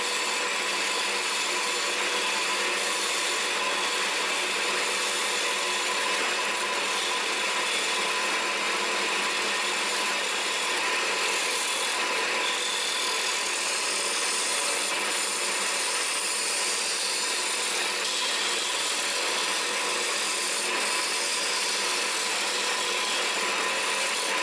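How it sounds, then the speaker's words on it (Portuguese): A wood turning chisel shapes a wooden handle on a lathe, a steady unbroken scraping hiss with a faint motor hum underneath, moderately loud and without talk. "Olha, o formão fazendo um cabo pra ele."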